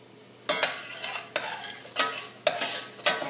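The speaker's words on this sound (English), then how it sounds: "add in about a cup of onions to it, and once I've added it all in, we are going to stir it," Onions being stirred and sautéed in a medium saucepan, a soft sizzle broken by about six scraping stirs in a loose, uneven rhythm, close and fairly quiet.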